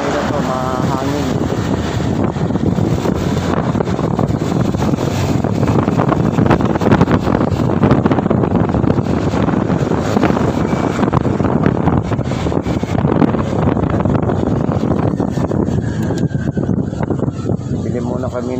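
Heavy, constant wind buffets the microphone throughout a trip on a boat, a loud rushing roar with people talking underneath.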